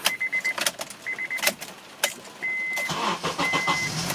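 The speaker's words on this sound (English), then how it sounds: "Start the car." A 2008 Honda CR-V with a freshly replaced VTEC solenoid is cranked and started in a workshop, with repeated chimes and short mechanical bursts leading into a steady engine run, close and fairly loud.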